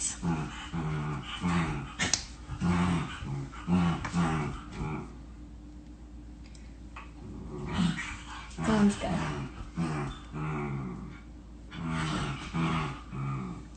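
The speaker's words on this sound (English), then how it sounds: "It's my dogs fighting for a blanket." Several dogs growl, whimper and yip while fighting over a blanket in a home kitchen, audible in bursts beneath someone talking close by.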